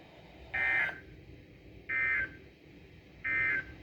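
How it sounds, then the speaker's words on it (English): NOAA Weather Radio warning alarm test tones sound as three short, evenly spaced electronic bursts about one and a half seconds apart. They are moderately loud over a faint background hiss. "This has been a test of the NOAA Weather Radio Public Warning Alarm System."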